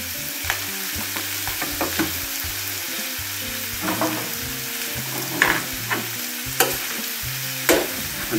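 Mushrooms fry in a paella pan with pork knuckle, giving a continuous crackling sizzle broken by sharp scrapes and knocks as they are stirred, fairly close and with no talking.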